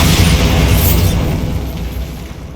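Hogwarts Legacy Bombarda spell explosion: a loud, close, rumbling boom that bursts at once and then slowly fades into a crackling roar.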